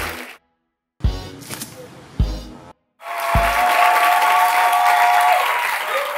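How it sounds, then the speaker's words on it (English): An audience applauds at the televised quiz-style money show Show Me The Money, a few sharp starts and stops of clapping and then a sustained, full round of applause from the crowd. "Give them a round of applause."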